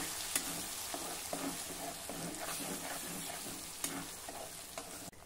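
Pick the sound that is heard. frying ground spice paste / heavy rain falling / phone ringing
frying ground spice paste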